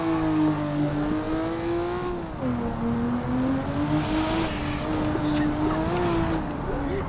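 Turbocharged car engine in BeamNG.drive, a simulated version of a real road car on the way to the track, droning and rising in pitch as boost builds, steady and fairly loud.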